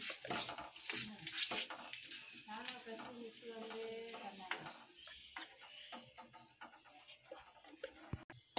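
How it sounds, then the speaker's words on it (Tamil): Puris for pani puri crackle and sizzle in hot oil over low heat, a steady frying hiss with occasional stirring clinks, while a voice talks over it. "இப்போ பூரி போட்டோம் ஃப்ரெண்ட்ஸ். இப்போ வந்து பாருங்கள் ஃப்ரெண்ட்ஸ், பொரியுறது"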